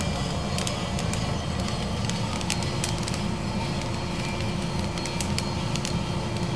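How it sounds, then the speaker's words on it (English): Freshly roasted coffee beans, just dropped from the roaster in a coffee house, crackle and pop continuously, with sharp snaps scattered over a steady rushing hiss of the roasting equipment. "And they're still popping. I can hear that crackling."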